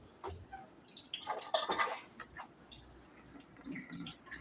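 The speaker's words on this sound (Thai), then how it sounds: "น้ำมาครับ น้ำมาแต่ว่า ปัญหาคือตอนนี้ ตัวนี้ไม่ได้ถอดออกมาล้างน้ำเลยออกน้อยนะครับ" Water running from a tap into a coin-operated washing machine with a clogged inlet, an uneven low trickle with splashes and drips swelling and fading nearby.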